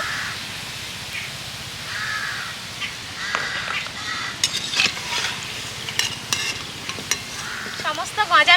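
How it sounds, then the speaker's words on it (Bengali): Goja pastries, a layered crispy Bengali sweet, fry in hot oil with a soft, continuous bubbling sizzle. Crows caw loudly nearby in repeated bursts over it. "বাকি গজাগুলোকেও একইভাবে ভেজে নেব"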